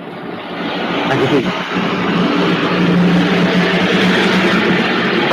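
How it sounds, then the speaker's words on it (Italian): An airplane passes overhead near an airport, a broad steady roar with a low hum that swells slightly and holds throughout while someone talks in Italian over it. "sta passando un aereo."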